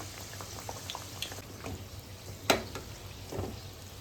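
Food frying in a pan for a fasting-day falahari thali, pieces in batter crisping in oil: a steady bubbling sizzle throughout, close and moderately loud, with one sharp clink partway and soft scraping touches.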